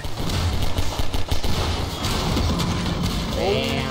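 Gunfire in the Half-Life 2 Synergy multiplayer mod, a burst of close, rapid shots over the first two seconds, then a softer stretch with a rising electronic tone near the end, while players talk over it.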